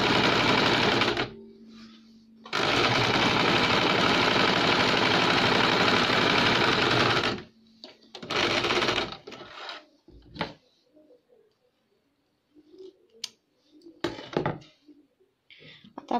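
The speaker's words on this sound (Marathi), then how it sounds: "इथे आपण डबल शिलाई मारून घेऊ." A sewing machine runs a double seam on a small cloth cap, with two long close bursts of rapid stitching, then a short burst and scattered handling clicks and thumps.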